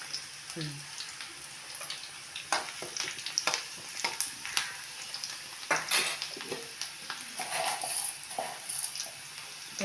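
Tempering spices including cumin crackle faintly in hot oil for a raw banana dish, a quiet sizzle with scattered spatula scrapes and taps, close and low in level.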